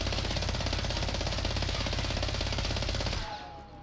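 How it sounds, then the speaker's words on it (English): A light machine gun in Warzone empties a full 75-round magazine in one continuous, loud, rapid burst of gunfire, stopping abruptly near the end, followed by a brief ringing tail. "Let's just shoot the full 75 to see how it compares to 50."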